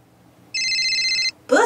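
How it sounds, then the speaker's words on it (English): A cartoon truck phone in a children's show rings with one steady electronic trill lasting under a second, then a short burst of brighter sound follows. "Boots just got a call on his truck phone."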